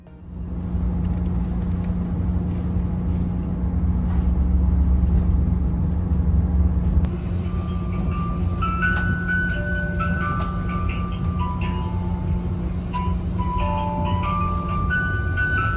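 A steady low hum and rumble fill the cabin of the Yakumo limited express on the San'yō Main Line near Okayama, Japan, with faint tonal whines and chimes rising over it.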